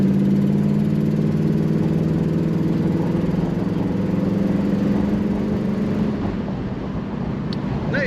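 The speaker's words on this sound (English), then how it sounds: "Nice throttle response as well." A 1972 Pontiac Grand Ville convertible engine runs loud and close, its pitch rising slightly under light throttle before settling back toward idle, with no speech.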